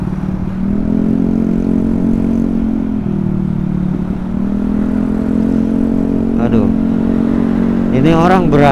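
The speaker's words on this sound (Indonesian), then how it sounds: "itu yang di depan itu pakai knalpot racing" A motorcycle fitted with a racing exhaust rumbles nearby in stop-and-go city traffic around waiting minibuses and crossing pedestrians. Its steady engine drone runs throughout, with brief higher whining tones near the end.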